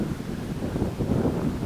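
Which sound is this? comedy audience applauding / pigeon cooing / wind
wind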